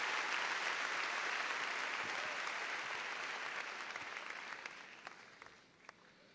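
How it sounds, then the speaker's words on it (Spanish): Loud, dense applause from a church audience at a Pentecost retreat fills the space, then slowly thins out toward a few scattered claps at the end. "un aplauso bien fuerte"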